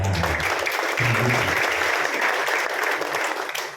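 A church congregation at a Sunday service applauds loudly and continuously, the clapping holding strong before easing slightly at the end.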